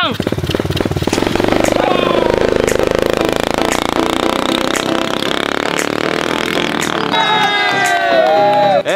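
A trail motorcycle climbs an off-road slope at full throttle, engine roaring steadily and close, with people shouting and talking over it throughout.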